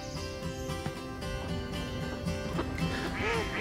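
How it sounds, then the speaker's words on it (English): Duck quacks sound over a steady musical backing, with repeated short calls and no talking. "I see a yellow duck"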